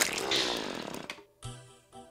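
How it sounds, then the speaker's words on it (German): A drill in the video game Terraria grinds with a loud, buzzing chainsaw-like whir, then cuts off into short electronic game tones. "Ich hab den Hasen tot gebohrt."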